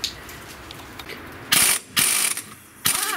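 Ratchet wrench unscrewing the central hub nut on a Daewoo Lanos during a wheel bearing replacement, three loud bursts of rapid ratcheting clicks separated by short pauses, close up.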